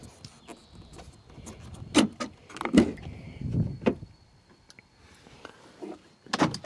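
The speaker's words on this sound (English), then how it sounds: "We'll go ahead and unlock the door here." Door locks on a 2015 Ford F-350 Super Duty King Ranch with the 6.7L diesel release with a few sharp mechanical clunks and clicks, spaced a second or so apart, close by in a quiet setting.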